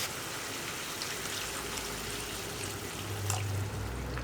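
Water, about one and a half cups, is poured into an egg curry gravy, giving a steady splashing, rain-like patter that swells slightly near the end, with no voices.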